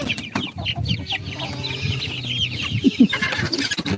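Several chickens cluck nearby, busy overlapping calls with a few louder squawks, no speech.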